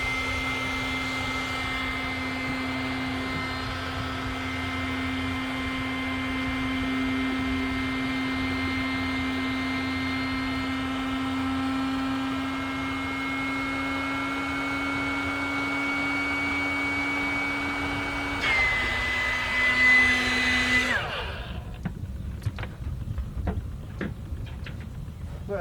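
An electric pump inflating an Aldi inflatable paddle board hums in a steady, continuous drone that shifts pitch slightly partway through, then cuts off, leaving brief handling clicks.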